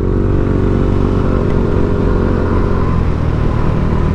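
A Yamaha NMAX V2 scooter fitted with a dual-tip RS8 DC8 exhaust holds a loud, steady, deep engine drone close by, gruff and rumbling throughout, with no voices.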